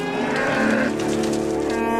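A cow gives one long, loud, close moo that swells and holds, with a faint patter behind it.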